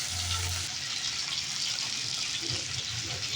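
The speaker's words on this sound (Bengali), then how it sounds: "গরম তেলের মধ্যে একটা একটা করে পিস দিয়ে দিচ্ছি।" Pieces of bhetki fish dropped one by one into hot oil, giving a steady broadband hiss of frying throughout, fairly loud and close with no talk.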